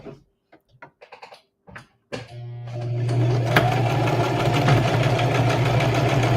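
A sewing machine stitches a printed and a yellow fabric piece together for a Christmas stocking: a few soft handling clicks, then the motor starts and whirs into a steady, close, rapid mechanical run.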